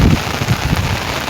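The first rain of the season falls as a steady, loud, close hiss of drops with some low rumbling texture underneath, heard alone for a brief moment.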